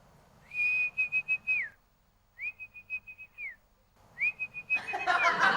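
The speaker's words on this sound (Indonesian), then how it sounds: "Tinggal siul." Three sustained whistled notes, each held about a second with a quick pitch drop at the end, separated by brief pauses; a rushing noise enters at the close.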